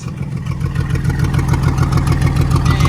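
An engine fitted with a freshly cleaned Carter downdraft carburetor runs at a steady idle with a rapid, even low-pitched pulse and a rough exhaust note from a large hole in the exhaust, loud and close, no talking.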